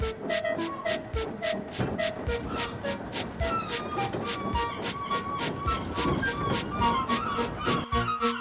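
A train of oil tanker wagons being shunted clanks along slowly with rhythmic, regular metallic clicks and rattles over rail joints, steady and fairly close, with faint background noise.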